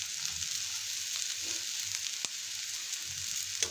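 Onion, ginger and garlic sauté in a pan with a soft, even hiss of oil, fairly quiet and steady, with a single faint stirring tap partway through.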